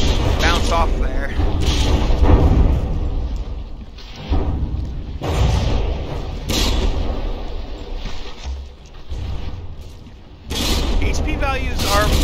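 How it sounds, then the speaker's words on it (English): Battleships, including the Bismarck, fire their guns in From the Depths, producing repeated heavy booms and explosions in bursts over a rumbling background, loud and close, with a voice talking over them. "the force of the explosions from the Bismarck's guns"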